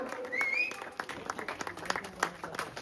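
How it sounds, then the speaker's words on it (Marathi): An audience at a Konkani drama opening ceremony applauds a tabla player: scattered, fairly close hand claps that continue over a brief tonal musical sound. "प्लीज टाळ्या मारून त्यांचे अभिनंदन करू दे"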